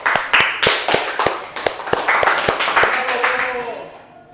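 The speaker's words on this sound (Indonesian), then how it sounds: "tepuk tangan untuk Mas Ripka" Scattered clapping from a small classroom group during a microteaching session, sharp claps repeating in an uneven rhythm for several seconds, with a voice faintly beneath and the claps thinning toward the end.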